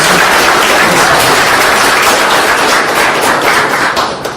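A round of applause from the crowd at the inauguration of an organization's new headquarters, loud and sustained, with dense steady clapping throughout that tapers slightly at the end.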